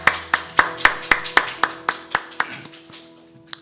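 A church congregation at a morning worship service claps together in praise, a series of about a dozen sharp, evenly timed unison claps that ring in the hall before thinning out and stopping, with one last stray clap at the end.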